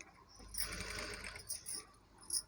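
A sewing machine runs in short bursts, stitching a back panel of a long frock cut from saree fabric, a light rapid whirring that rises and dips, fairly quiet and close, with no talking.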